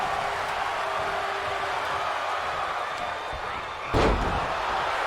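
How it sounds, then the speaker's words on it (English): A wrestler is dropped with an electric chair drop onto a collapsed ladder in a wrestling ring, one sharp heavy slam near the end that rises over a constant crowd roar and broadband arena noise. "Electric chair drop onto the collapsed ladder."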